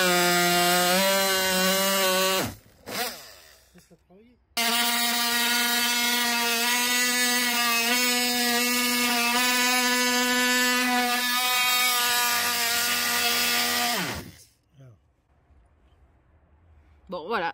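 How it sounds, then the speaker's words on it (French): A Carrefour oscillating multifunction tool cuts into wood with a steady, loud whine, a brief burst near the start and then a long continuous run that stops near the end. "dernier essai, regardez, on va tester l'outil multifonction"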